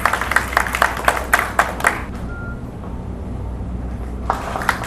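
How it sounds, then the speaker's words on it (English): A burst of hand clapping from an audience at a live program at the Institute of Chartered Accountants of India, Kolkata, several sharp claps in quick succession, fading to quiet before a few scattered claps return. "Please give a big round of applause."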